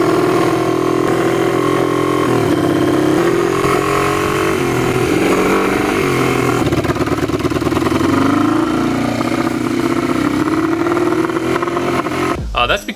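Yamaha XS400 motorcycle engine, with a carburettor not rejetted after a jet kit, running loud and steady at close range throughout, its pitch shifting slightly as it revs.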